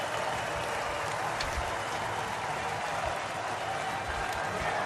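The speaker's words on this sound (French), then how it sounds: "Merci pour ces applaudissements." Audience applause fills a Republican convention hall, a steady dense wash of clapping from a large crowd that holds evenly throughout.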